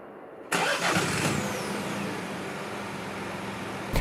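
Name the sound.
car engine starting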